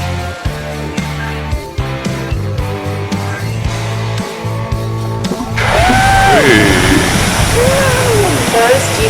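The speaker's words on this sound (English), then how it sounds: "First, you can see the water is bubbling in the hole, it bulges up the water and then it squirts fountain-like." A geyser spits water from its hole, starting with bubbling and sloshing and then a loud, rushing burst of spray that stays near and continuous. Whistles and crowd noise rise over the eruption.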